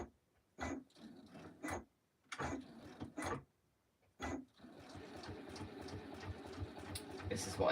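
A sewing machine stitching in the ditch through quilt layers, short quiet bursts of fast mechanical whirring at first, then a longer continuous run of stitching.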